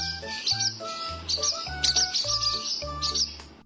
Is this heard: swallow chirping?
yes